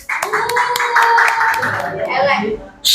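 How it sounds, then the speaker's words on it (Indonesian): Students in a middle-school arts class clap for a group about to present, a burst of hand claps mixed with children's voices, fading briefly before a louder sound returns at the end. "beri tepuk tangan biar lebih semangat kelompok 1"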